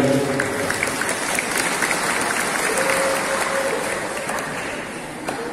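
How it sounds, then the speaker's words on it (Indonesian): A school audience claps steadily through a road-safety outreach event with transport officials and local council members, the sustained applause filling the hall and easing off slightly toward the end. "tepuk tangan terus ya"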